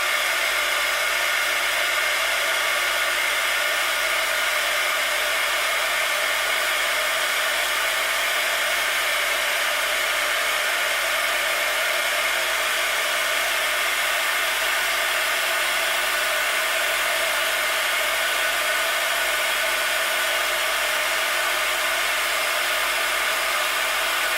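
A heat tool melts embossing powder on card with a steady, loud, continuous blowing whir that runs unbroken throughout, with no talking.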